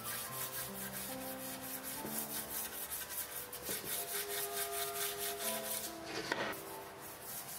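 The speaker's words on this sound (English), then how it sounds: "using steel wool or sandpaper to clean the bamboo surface to make it smoother" Steady back-and-forth rubbing of steel wool or sandpaper on a hollow bamboo pole, a rhythmic close scratching that continues throughout.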